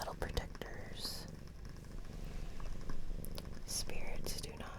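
A cat purrs softly and steadily up close, overlaid by intimate whispering and scattered small handling clicks and rustles.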